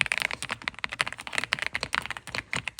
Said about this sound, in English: Can you just type anything?